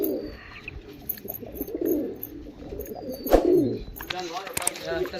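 Red-headed pigeons, a male and female pair being released, coo in low murmuring bursts close by, with a few brief chirps and rustling and some human talk mixed in.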